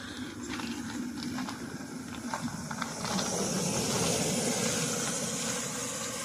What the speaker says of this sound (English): But now the engine is running.